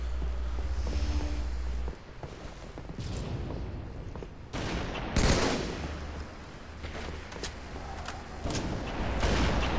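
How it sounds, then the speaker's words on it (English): Sniper fire and other gunshots in a Halo-style multiplayer match, several sharp cracks and bursts scattered over a low game soundscape, with a louder boom midway. "Heard sniper fire."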